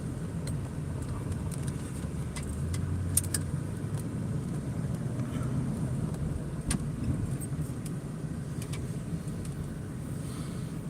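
A car drives past outside, a steady low engine and tire rumble swelling slightly mid-pass and fading, heard through a room with faint clicks over it.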